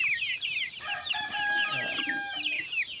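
Mixed backyard chickens, including Sussex hens and gamefowl, clucking and calling in a pen, with a rooster crowing through the middle, close and lively against continuous chatter.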